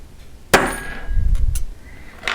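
A single sharp hammer blow strikes a steel letter stamp on metal, a bright ringing clang followed by a fainter tap and a brief rattle, close and loud.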